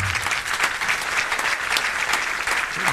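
A church congregation claps loudly and steadily during a worship service, dense continuous applause filling the space for several seconds with no voices standing out.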